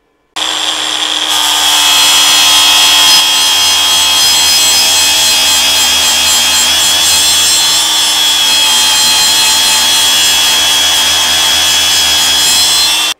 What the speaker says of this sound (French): on va éliminer le cordon de soudure avec un disque à lamelles à gros grain